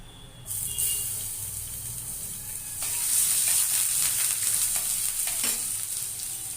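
Garlic paste sizzles in a hot frying pan while katla fish head muri ghonto is cooked: a steady frying hiss that swells and grows louder partway through, with a few light scrapes and crackles and no talking.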